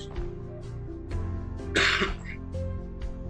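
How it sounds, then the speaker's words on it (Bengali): A person with a cold gives a short, sharp cough and throat clearing, one close burst in the middle of an otherwise quiet indoor moment. "আমার বারবার কাশি আসতেছে"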